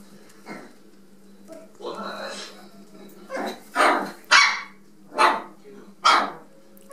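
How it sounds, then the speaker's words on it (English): Rat Terrier puppies bark repeatedly in sharp, loud bursts, close by, with a few softer yips in between and a low background hum. "What are you barking at?"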